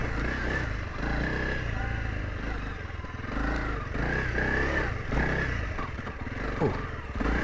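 A Honda CRF300L Rally motorcycle crawls in first gear over rocky ledges, its engine a steady, low, uneven chug with slight revving, while a rider talks over it.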